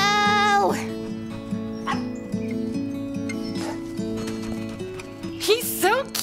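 A dog yipping, whimpering and barking in a short animated scene, with high whines and barks over steady background music, with bursts at the start and end.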